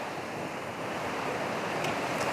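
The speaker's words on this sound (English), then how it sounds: "looking towards the ocean and noticing that it's raining now" Ocean surf wash in the rain forms a steady, dense hiss with no distinct wave breaks, fairly faint and continuous, with no voices.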